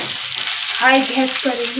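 Green chillies drop into browned onions frying in oil, giving a steady, close sizzle with stirring noises, while a voice speaks briefly over it.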